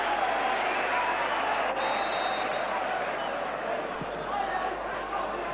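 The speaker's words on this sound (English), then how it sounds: "Henrik Larsson, is heading off to great applause from the Celtic supporters" Celtic supporters in a stadium applaud Henrik Larsson as he leaves the pitch during a November 1997 match against Dunfermline, a steady, dense roar of clapping and crowd noise that holds evenly throughout.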